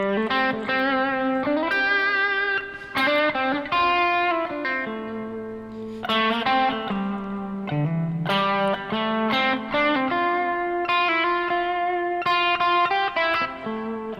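Electric guitar with a distorted, effected tone plays melodic lines and double-stop chord tones over a steady chord vamp, loud and continuous with no talking.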